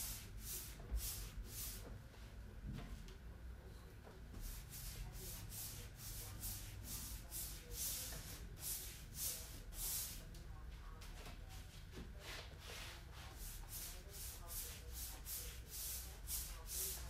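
Brush laying a light first coat of paint, soft repeated rubbing swishes in a steady rhythm, close and quiet throughout.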